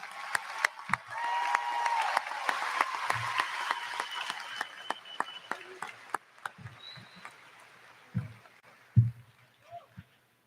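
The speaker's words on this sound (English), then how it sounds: "Let us give all our valedictorians a round of applause." An audience at the Farrington High School 2022 commencement ceremony gives a faint, distant round of applause for the valedictorians. The clapping thins out midway and leaves a few scattered low thumps.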